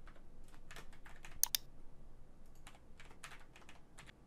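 Quick bursts of typing on a computer keyboard, light clustered keystrokes in uneven runs with short pauses, close and fairly quiet, with no voices.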